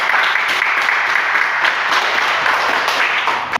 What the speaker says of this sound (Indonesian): Oke, tepuk tangan buat kalian.